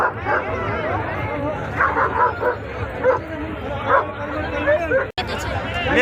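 Dogs bark and yip repeatedly in the background at the Malegaon fair's dog market while several people talk over them, with a brief cutout near the end.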